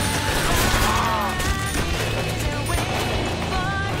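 Rapid gunfire from World at War Zombies in the SS Mansion map, a dense unbroken fusillade of loud shots layered with game noise, steady and close throughout.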